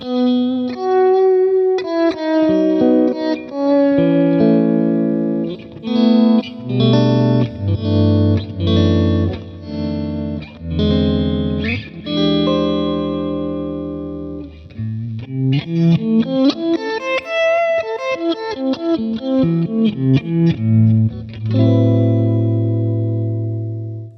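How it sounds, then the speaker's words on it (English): Electric guitar through a Boss MS-3 slow gear effect, notes swelling and fading in gradually rather than attacking, played continuously in a flowing melodic phrase without talk. "the slow gear effect gives us kind of ramping up into our sound"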